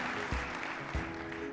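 An audience at a spoken-word talk applauds, a steady wash of clapping with a few dull thumps, heard without speech.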